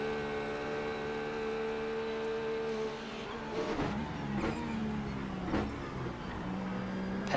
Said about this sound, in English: Passing a lap car right there